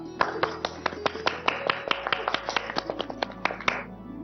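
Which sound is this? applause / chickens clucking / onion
applause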